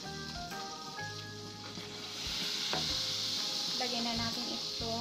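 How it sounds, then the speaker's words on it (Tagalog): Butter sizzling and bubbling in a pan while chicken sisig is being prepared, a steady crackling fry that swells louder midway and carries on alone without talk. "kumukulo na itong butter"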